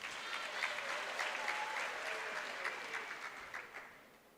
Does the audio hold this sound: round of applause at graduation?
yes